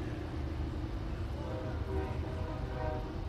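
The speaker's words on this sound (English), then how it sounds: "I'm going to talk over the train." A train rumbles past an outdoor book festival in Gaithersburg, a continuous low roar with a faint tonal horn-like hum partway through, moderately loud and fairly distant, with no one talking.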